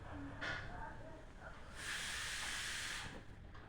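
Rasgulla balls dropped into hot refined oil give off soft sizzling hisses that swell in bursts, the longest lasting over a second, while a voice speaks faintly underneath.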